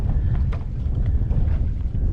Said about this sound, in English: we got a good breeze blowing out here this morning